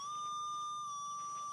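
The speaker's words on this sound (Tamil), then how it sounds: "beep alarm sound கொடுக்குதுங்களா" Steady high electronic tone from a metal detector alarm, a single sustained beep that holds clear and fairly loud for about a second and a half with nothing else around it.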